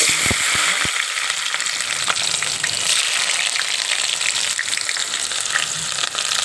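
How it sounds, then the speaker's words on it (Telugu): Onions frying in hot oil for a Kakinada-style yam, tomato and brinjal tamarind stew, a loud steady crackling sizzle with a few sharp knocks of a utensil against the pan at the start. "ఇప్పుడు నూనె మరిగిందండి ఉల్లిపాయలు"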